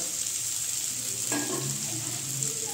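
Salted potatoes frying in a pan, a continuous close sizzle with a brief stirring scrape partway through.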